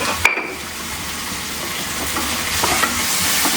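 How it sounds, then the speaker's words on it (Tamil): Vegetables sautéing in a hot pan with salt, giving a steady close sizzle broken by scraping stirs and a sharp metallic clank at the start. "நல்லா வதக்கிக்கணும்."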